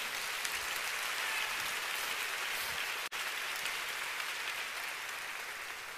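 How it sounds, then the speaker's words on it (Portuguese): A church congregation applauds during a sermon, a continuous, fairly faint wash of clapping heard from a distance with no voices over it. "Se é para Jesus, você pode aplaudir."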